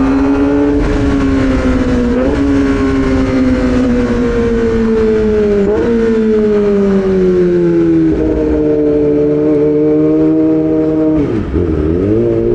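Kawasaki big-cc motorcycle with a quick shifter riding hard: a loud, close engine climbs in pitch through repeated quick gear changes, each shift marked by a brief dip before the revs rise again, with no talk.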